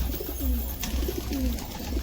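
Domestic pigeons coo in low, rolling phrases at close range, repeating over steady background noise with no talk.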